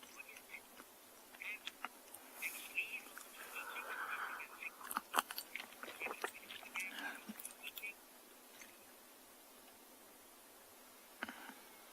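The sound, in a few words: elephant chewing and cracking roots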